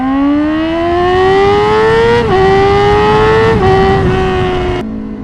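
A Yamaha R6 sport motorcycle engine revs loud and close, climbing steadily in pitch with brief dips between rises, then cuts off sharply near the end. No distinct exhaust pops or bangs stand out.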